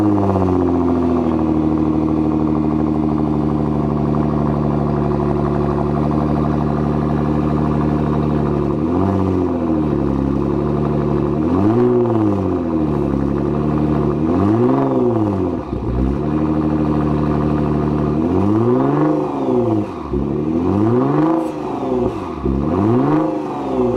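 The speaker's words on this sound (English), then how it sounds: "we're just going to start the car and check out the sound" A car fitted with a Tomei 100 mm racing-spec catback exhaust with quad tailpipes starts and idles loudly, then takes a series of sharp revs, each rising and falling, close and alone.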